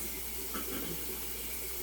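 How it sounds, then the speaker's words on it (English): Lemons being washed under a running kitchen tap, a steady close stream of water splashing over the fruit in a sink, with no talking. "Give it a good wash before you put it into your water. So I'm just washing my lemons."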